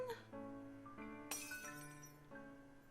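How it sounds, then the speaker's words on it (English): Shattering glass in a video game: a bright crash with tinkling, ringing shards that decay over a few seconds, set against a soft musical background with no talking. "I barely register the sound of shattering glass at my feet."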